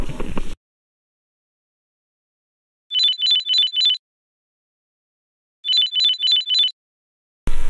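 A mobile phone ringtone plays as two bursts of four quick electronic chirps each, separated by a few seconds of silence and fairly loud and close.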